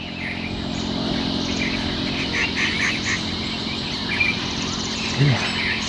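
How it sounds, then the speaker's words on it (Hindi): Forest birds chirp and call over a steady, dense drone of insects and frogs, with the layered chorus continuous throughout. "और यहाँ बर्ड्स की इतनी प्यारी प्यारी आवाज़ आ रही है ना यार,"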